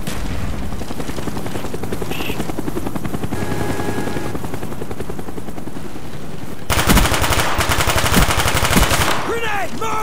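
Rapid automatic gunfire in a first-person shooter, a dense rattling burst running continuously over a helicopter-like drone, growing louder and harsher toward the end.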